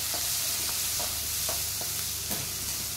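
A spatula stirs and sautés in a pan on a Tamil home stove, with a constant faint sizzle beneath soft, evenly spaced scraping strokes, and no voices.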